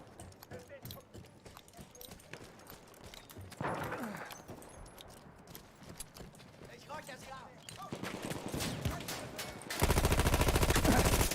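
Rapid bursts of gunfire in the video game Battlefield crackle through busy game noise and hoofbeats, ending in a loud sustained stream of automatic fire.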